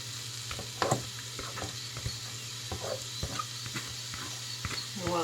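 Chopped leeks sautéing in salted butter over medium heat, with a steady low sizzle under repeated clinks and scrapes of stirring, close and fairly quiet.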